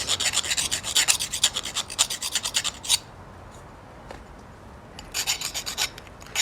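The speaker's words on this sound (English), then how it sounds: "So I'm just going to knock off the edges with a file now" Hand file rasping along the cut edges of galvanized steel to remove burrs, a run of quick close strokes, a brief pause, then another short burst of filing.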